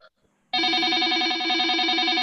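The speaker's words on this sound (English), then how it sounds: "I'm not sure whose phone that is" A mobile phone rings out in a meeting room during a local heritage committee meeting, its loud, steady electronic ringtone starting abruptly after a brief quiet moment and continuing without pause.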